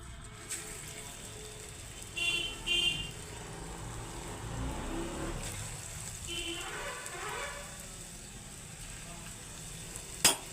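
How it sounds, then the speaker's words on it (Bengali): Soft sizzling of chicken and green banana patties frying in hot oil in a kadai, a steady low crackle with a few brief louder clatters, fairly close. "এবারে টিকিয়াটা ভাজবো কড়াই এই যে তেল গরম হয়ে গেছে"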